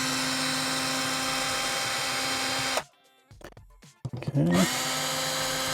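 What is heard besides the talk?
removing outlet screws with a power drill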